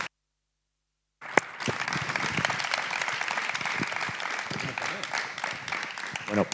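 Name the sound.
audience applause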